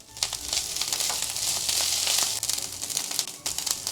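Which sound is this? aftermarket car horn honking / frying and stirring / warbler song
frying and stirring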